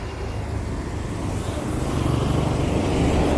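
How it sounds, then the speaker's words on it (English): Saturday-evening road traffic on a street in Barrio Barretto, Philippines, rumbles past steadily, with car and bus engines swelling as vehicles pass close by, growing slightly louder toward the end and free of speech. "I love this traffic."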